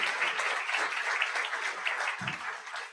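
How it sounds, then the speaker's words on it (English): Convocation audience applause, a sustained wash of many hands clapping at steady loudness for the full span, fairly close and dense, with a brief low thump near the end. "Please give them a round of applause."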